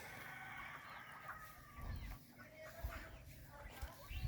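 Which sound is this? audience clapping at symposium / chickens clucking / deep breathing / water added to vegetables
chickens clucking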